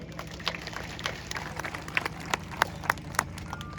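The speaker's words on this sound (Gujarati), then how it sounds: "આના માટે પેલા તો તાળીઓ ઉપાડો" Scattered, uneven clapping rises from a gathering at a farmers' land-survey protest in Khambhalia, a handful of distinct claps over a low, murmuring background.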